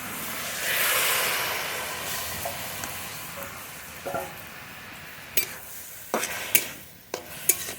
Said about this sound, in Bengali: এবার আস্তে আস্তে জাল দিয়ে নেড়ে নেব